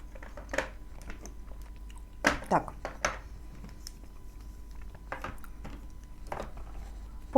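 Biting into and chewing a hard ball of homemade assorted paste cookie, made without chalk: several sharp crunchy bites and chews spaced out across the clip, close up against a quiet background.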